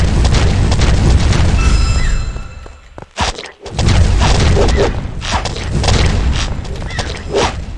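An amplified explosion ability in the Hunt Royale action RPG battle game bursts as a loud, dense boom, a brief dip to near silence, then continuing rumbling game noise.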